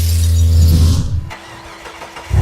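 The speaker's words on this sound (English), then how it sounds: "let that motor run" A truck motor runs loud and close with a deep rumble, then drops off sharply to a quieter lull before surging back in at the very end.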